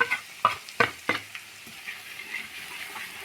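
A spoon or spatula stirs turmeric, coriander and chilli powder into a curry in a pan, giving a few sharp scraping knocks early on, then soft, sparse stirring sounds fading into a quiet background.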